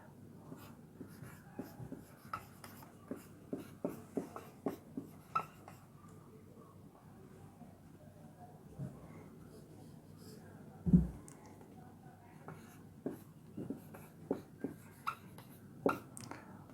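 A pen or pencil writes Sanskrit script in short, irregular scratches and taps spread over the whole stretch, close and fairly faint, with a soft thump partway through.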